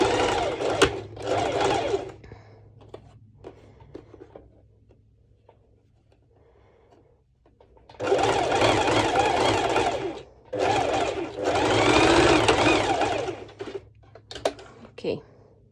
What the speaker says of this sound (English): So I will be doing exactly the same, a straight stitch, but this time it will be over 4 layers of fabric